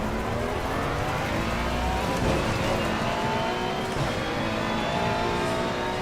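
A race car in a racing video game at Spa-Francorchamps, its engine droning with rising and falling gear pitches and shifts, steady, close and loud throughout, with no talking.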